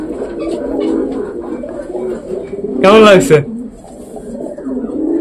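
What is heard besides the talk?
racer pigeon cooing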